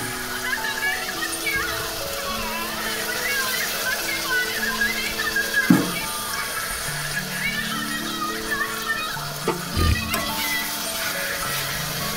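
Rinse water swirled out of a spice mixer-grinder jar is poured steadily into a pan, a continuous sloshing splash with voices and children's chatter running underneath.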